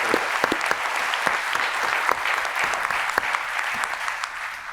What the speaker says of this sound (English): can we actually get a round of applause for Webflow University and all the people who are working?